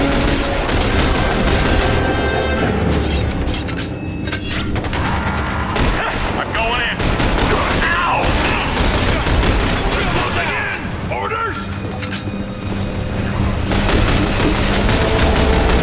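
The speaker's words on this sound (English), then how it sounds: "Gotta keep folks firing this gunship" Dense, sustained gunfire from a gunship in The Bureau: XCOM Declassified, with rapid bursts and booming impacts running throughout under occasional speech.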